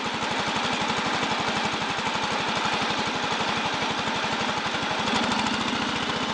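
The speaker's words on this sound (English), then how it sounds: "this is a tractor that works all fall, picking up leaves in all the houses I do." A Bolens garden tractor used for fall leaf pickup, running with a steady, loud, close engine chug in an even rapid pulse throughout, no voices.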